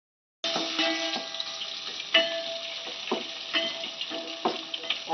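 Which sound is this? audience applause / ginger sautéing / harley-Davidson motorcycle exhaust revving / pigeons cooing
ginger sautéing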